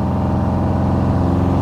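A 1938 BMW 328 Roadster engine runs steadily, a loud low rumbling drone that stays even throughout.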